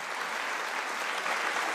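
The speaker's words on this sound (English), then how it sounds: "A warm round of applause for His Excellency" Dense, steady applause from a conference audience at an international heritage conference in Gigiri, filling the whole stretch at an even level with no talk over it.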